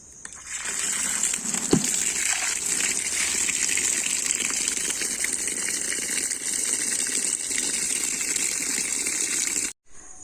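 Water gushes steadily while washed clothes are being rinsed, a continuous rushing pour with a brief knock near the start that cuts off abruptly at the end.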